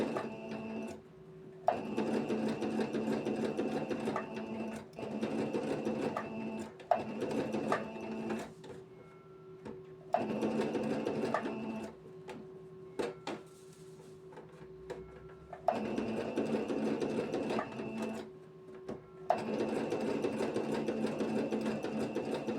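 A sewing machine stitches around a fabric drop shape for a gypsy-style blouse, running in steady whirring bursts of a few seconds each, broken by short pauses, close and without talk.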